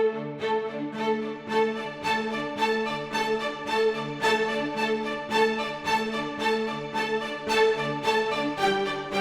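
Metropolis Ark orchestral sample library strings and brass play a sustained, rhythmic passage of repeated chords with steady pulsing accents, rich and full throughout, with no voices.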